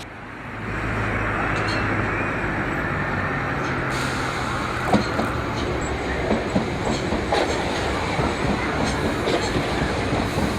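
A Class 395 Javelin electric multiple unit runs past on third-rail track in southern England, rising into a loud steady rumble with rhythmic wheel clicks over rail joints.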